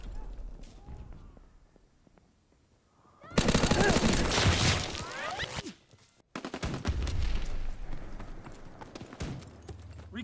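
Heavy WW2-era gunfire from a video game, dense rapid bursts erupting loudly after a quieter start, with a brief cutoff, then another sustained barrage and clattering effects.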